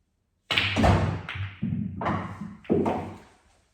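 Pool balls in an 8-ball game clack in three sharp impacts, each fading with a short ringing tail, loud and close with no talk.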